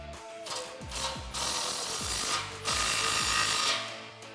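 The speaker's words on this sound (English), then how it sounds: "Now we'll tighten our clamp down." A ratchet tightens an exhaust clamp on a 2018-2019 Mustang GT Fastback during a Corsa Xtreme cat-back install, with a string of quick clicking ratchet strokes in bursts, close and clear.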